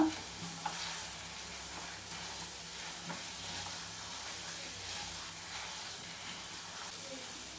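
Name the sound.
stirring mango burfi mixture in a pan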